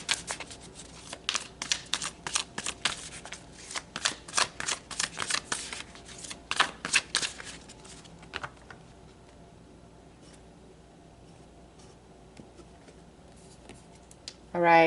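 Tarot cards are shuffled and pulled in quick, crisp riffling bursts at close range. The bursts thin out into quieter handling and end with a soft thump.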